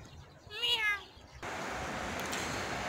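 A single short meow from a cat at a zoo park in Russia rises and falls close by, followed by a sudden burst of steady hiss or rustling noise.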